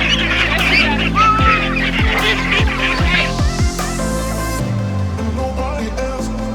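Ducklings quack repeatedly in quick bursts, close up, while being caught for a chicken tractor, with a busy, layered mix of bird calls throughout.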